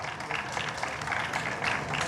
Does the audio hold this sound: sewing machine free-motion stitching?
no